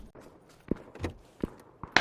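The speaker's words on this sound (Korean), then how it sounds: "발소리 들렸어요 위에서" Footsteps in the video game PUBG, heard from a floor above: several soft, separate thuds spaced about a third of a second apart at moderate distance, with a sharper knock at the end.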